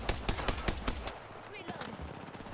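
A rapid burst of gunfire in a video game shooter crackles hard and fast for about a second, then gives way to softer scattered shots and game noise.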